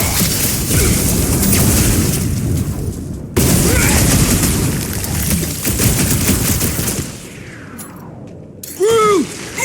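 Sustained, loud gunfire and blasts from the Guardians of the Galaxy video game, dense bursts filling the first seven seconds with a brief break, then fading into game effects and a short voice line.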